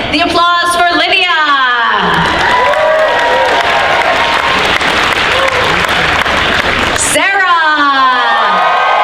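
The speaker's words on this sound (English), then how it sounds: "let's start with the applause for Lydia" Loud crowd applause with cheering, whoops and shouts for a contestant at a Dragon Con costume contest, a dense sustained roar filling most of the span between stretches of speech at either end.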